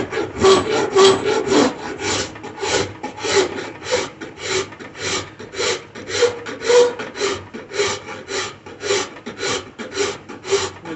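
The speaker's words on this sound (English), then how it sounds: "So when I'm cutting with my rasp, the rasp is only going to cut in one direction." A hand rasp cuts wood while a chair or furniture limb is being profiled. Steady back-and-forth rasping strokes come close and clear, roughly two per second, with no voices.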